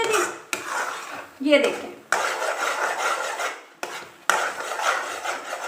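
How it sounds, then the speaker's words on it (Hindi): A spoon scrapes and stirs roasting chana dal halwa in a kadhai in repeated close, rasping strokes separated by short pauses, with a few brief spoken words. "थोड़ी थोड़ी देर के बाद आपने चम्मच हिलाना है और उसको भूनना है"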